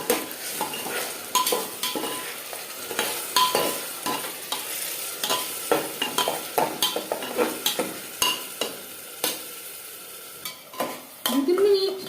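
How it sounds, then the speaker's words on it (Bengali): Onions frying in a pan as tomato paste goes in, a bright steady sizzle under rapid, repeated spoon scrapes and clinks against the pan, busy and close throughout, with a heavier scraping burst near the end. "তিন চার মিনিট পেঁয়াজ ভেজে নেওয়ার পর দিয়ে দেবো টমেটোর পেস্ট"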